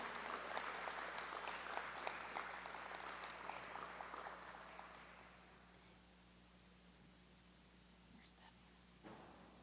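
Scattered clapping from a crowd at a university pageant fills the first half, then fades away, leaving a quiet room hum and a faint thump near the end.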